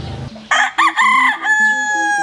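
A single loud rooster crow rings out close by, long and drawn out, after a moment of low background noise.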